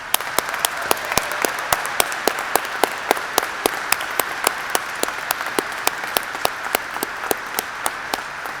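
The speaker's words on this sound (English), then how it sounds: "let's start this ceremony by recognizing our graduates with a hearty round of applause" Audience applause for graduates at a spring college graduation ceremony, with sharp individual claps standing out at a steady, fairly even pace above a continuous wash of crowd clapping throughout.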